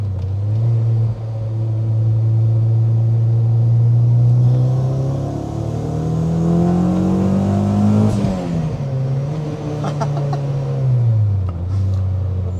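A supercharged 340HP Honda Civic Si engine revs up loudly and smoothly, its pitch climbing and holding, then dropping and rising again in a deep, throaty rumble.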